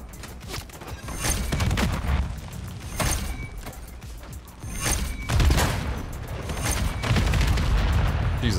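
A VTOL aircraft attack in Call of Duty, heard as repeated loud bursts of gunfire and heavy booms in uneven waves, with mechanical clatter between the blasts and no talk.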